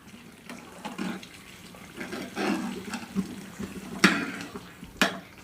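Water splashes and trickles in short uneven bursts into a pav bhaji mixture, with a couple of sharp clinks, close by and fairly quiet.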